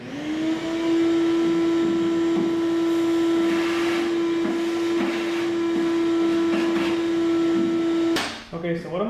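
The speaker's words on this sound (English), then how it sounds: "Try to get all the shavings knocked down there and then vacuum it out." A shop vacuum drones loudly and steadily with a high whine as it sucks up drill shavings from inside a fuel cell, then cuts off and rattles near the end.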